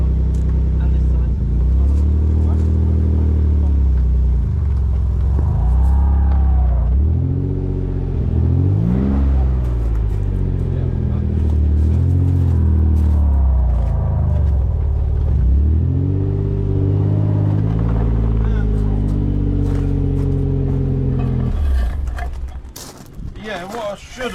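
Nissan 300ZX Twin Turbo engine pulling the car forward off blocks, a loud, close rumble rising and falling with revs for about twenty seconds before cutting off, with speech over it.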